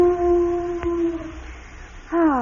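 A voice imitates a dog's howling song, holding a long wavering tone that trails off, then rising again in a sliding, yowling wail.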